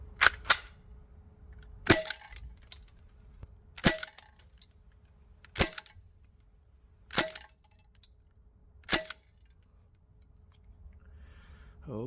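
A Tokyo Marui Mark 23 non-blowback airsoft pistol fires 0.25 gram BBs on green gas, giving six sharp, evenly spaced cracks about two seconds apart over a quiet background.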